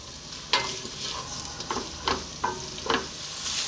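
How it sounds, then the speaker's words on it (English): Onions frying in a pan for chicken biryani, a steady sizzle broken by several sharp stirring scrapes at a fairly regular pace, close and moderately loud. "we're just going to fry these for about 5 minutes or so, until they're nice and crispy or golden brown"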